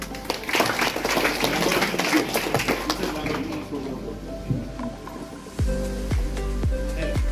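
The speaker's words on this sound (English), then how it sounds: "So, yeah, big round of applause." A live audience gives a round of applause during an in-person placement training session, dense clapping filling the first five seconds and then thinning out under a low hum and background voices.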